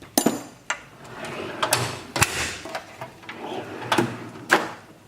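A drawer in a tool chest holding sockets and ratchets slides open with scraping runs and several sharp metallic clacks and rattles, close and alone.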